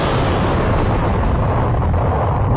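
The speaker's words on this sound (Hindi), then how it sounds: "अपनी एनर्जी से एक जोरदार धमाका कर" A powerful anime energy blast explodes as one loud, sustained roaring wash of noise filling the whole moment, with no voices.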